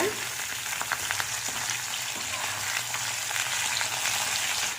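Potato poriyal fries in a pan with salt added, giving a continuous, even sizzle at close range with faint stirring scrapes woven through and no voices.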